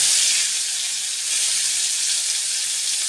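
Green chilies drop into hot mustard oil and sizzle steadily, a loud, close, hissing fry that holds evenly for a few seconds with no talk.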